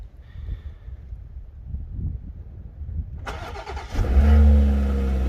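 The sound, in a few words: car engine remote starting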